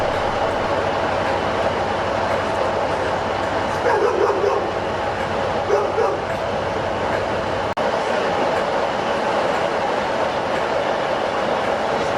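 Police dogs barking and yipping in the distance during a dog training day at a railway station, over a constant rumbling background of trains, the barks scattered and partly masked by the noise.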